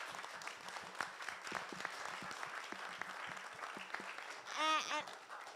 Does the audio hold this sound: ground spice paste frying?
no